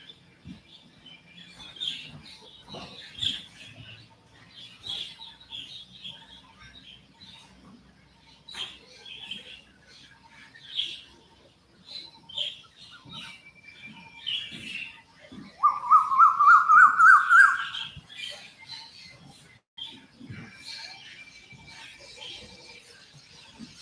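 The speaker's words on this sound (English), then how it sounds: "those are my stunt birds. They're pretty rowdy." Rowdy birds call at sunrise in Thailand, a scattered chorus of chirps and squeaks near and far, with a louder rising burst of calls toward the middle.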